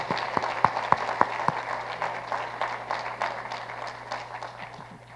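An audience at a university's State of the University address applauds its leaders with a steady wash of clapping that starts with a few sharp claps, then thins and fades, heard from a distance at modest volume.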